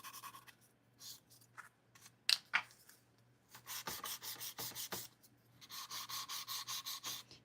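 Nail file rasping along the sides of a fingernail while shaping it into an almond form, heard as close, quiet scratchy strokes in short bursts with pauses, then a steadier run of rhythmic back-and-forth filing.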